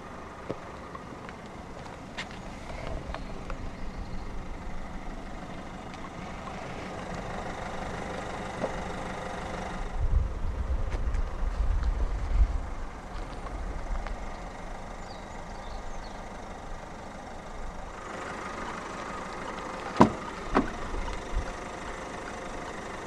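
A 2018 Citroën Grand C4 Picasso 1.6 BlueHDi 120 diesel engine idles with a low, steady, fairly faint rumble. It swells briefly midway, and a single sharp click comes near the end.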